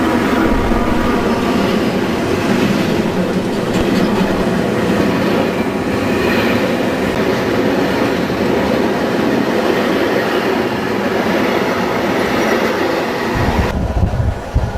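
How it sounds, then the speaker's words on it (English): A mixed freight train with many wagons rolls loudly through a station, a continuous heavy rumble with rhythmic wheel clatter and occasional squeals that stays close throughout. "a mixed freight comes through with many wagons"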